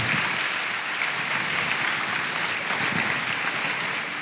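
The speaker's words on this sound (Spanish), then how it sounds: "denle un aplauso al Señor" A church congregation applauding, a dense, steady clapping that fills the room for a few seconds without pause.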